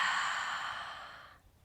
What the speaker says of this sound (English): and a nice loud exhale